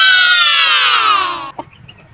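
Young chicks and chickens of the bulik breed chirp in a dense, high, continuous peeping chorus at close range, cutting off abruptly after about one and a half seconds, leaving faint scattered chirps.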